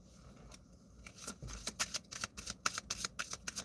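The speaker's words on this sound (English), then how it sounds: "I'm gonna start pulling cards" Tarot-style cards are shuffled and pulled by hand, starting faint and sparse, then turning into a quick run of crisp, papery riffling snaps, close and fairly quiet.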